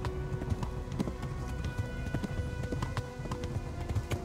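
Hooves of a galloping horse in the medieval video game Kingdom Come: Deliverance pound in a steady, rapid rhythm close by, with light clattering mixed in and no speech over the run.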